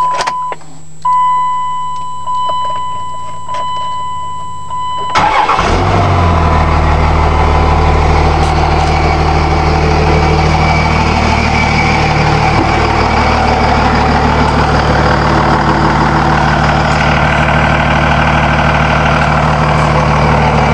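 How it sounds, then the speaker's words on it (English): A 2000 Dodge Ram 2500 with a Cummins turbo diesel is cranked over and fires up, then settles into a loud, steady, rumbling idle that continues close by for the rest of the clip. "2000 Dodge Ram, Cummins diesel."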